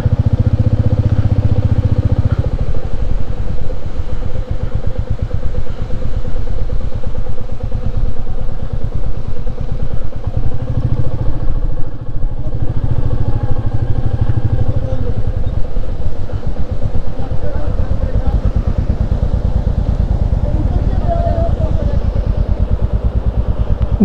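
Motorbikes churn through a water crossing on a rough Spiti Valley mountain road, engines droning and idling loudly and continuously with rattling clatter, while people talk over the noise.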